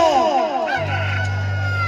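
A rooster crows nearby in one short call that fades into a steady low hum.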